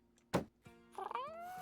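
A pet cat named Meow at a shop lets out a clear, rising harmonic meow near the end, after a sharp thunk and a couple of soft knocks close by, with no talking.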